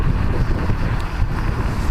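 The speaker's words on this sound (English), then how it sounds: "Maybe you can hear the road noise there." Continuous low rumble and wind buffeting from riding a Mercane MX60 electric scooter downhill, with road noise rolling steadily under the airflow across the microphone.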